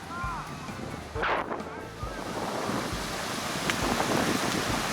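Wind and surf on the sea beach at Bakkhali, West Bengal, at low tide with small waves: a steady, broad roar of wind buffeting the microphone over washing surf, with a faint crowd murmur in the distance.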